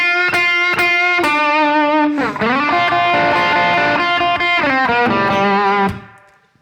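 A 12-bar blues lick on a distorted electric guitar, with sharp picked notes, bends and slides running for about six seconds before ringing out, close and loud, no speech.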